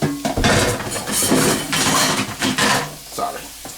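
Carrots dropped into a warm pan of garlic for pasta primavera, with a clatter of utensil on pan and stirring scrapes over a soft sizzle, close and busy throughout.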